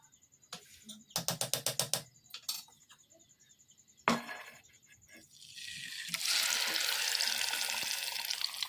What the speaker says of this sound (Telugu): ఏదైతే ముందుగా కలిపించుకున్నామో మసాలా చికెన్ కలిపేసి అది మొత్తం అంతా కూడా ఆయిల్ కానీ ఆయిల్లో వేసుకోవాలండి